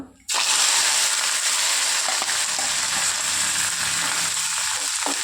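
Mustard seeds, onion, dried red chillies and curry leaves fry in hot oil with a loud, continuous sizzle and scattered crackles and pops, close up and steady throughout.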